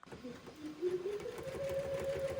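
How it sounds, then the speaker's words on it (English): An embroidery machine stitches a tack-down line through quilt batting, a steady rapid whirring and needle chatter that rises slightly in pitch and holds, close and continuous with no talk. "the machine is doing the tack down stitch for the battleizer that's on here, or the batting"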